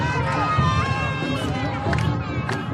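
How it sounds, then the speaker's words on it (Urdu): A street crowd in Beirut celebrates a ceasefire, with a dense mix of shouting voices, footsteps and movement that is loud and close. "بیروت میں لوگ سڑکوں پر نکل آئے، نعرے لگائے، جھنڈے لہرائے، جشن منایا"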